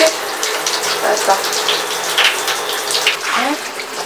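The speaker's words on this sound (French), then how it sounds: "il y a de l'eau qui tombe" Water from a tap or shower runs steadily while someone's hair is being washed, a continuous close splashing and gushing that shifts slightly as the head moves under the stream.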